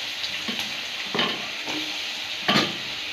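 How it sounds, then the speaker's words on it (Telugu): Chopped onions frying in a pan for paneer curry, a steady bright sizzle with a few louder hissing bursts as they are stirred, no voices. "ప్యాన్ పెట్టాను ఇందులో ఫస్ట్ ఆనియన్స్"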